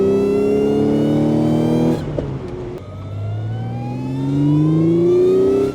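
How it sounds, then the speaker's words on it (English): A supercharged Audi S5 V6 engine revs up loudly, then drops away briefly before climbing again in a rising supercharger whine, close and continuous with no voices. "The supercharger sound easily it beats the induction noises that you get out of a stock WRX"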